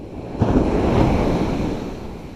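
A sea wave surges in with a rushing, full wash of water that swells loudly and slowly fades, with some wind buffeting the microphone, on a shoreline while fishing for bluefish.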